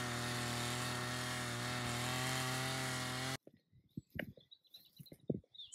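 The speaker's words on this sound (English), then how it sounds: "is she going to mow the whole field with a weed whacker?" A string trimmer mowing a field in France buzzes loudly and steadily with a harsh engine whine for about three seconds, then cuts off abruptly, leaving bird calls and faint outdoor sounds.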